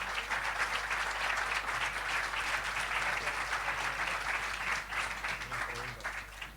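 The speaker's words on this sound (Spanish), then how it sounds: "les pedimos un aplauso para ellos." A seated audience gives panelists at a biopic discussion session sustained, dense applause, steady throughout with a slight easing near the end.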